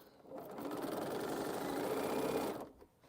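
A sewing machine stitches fabric down while quilting, a close, rapid mechanical whirring run lasting about two seconds before it stops, leaving quiet.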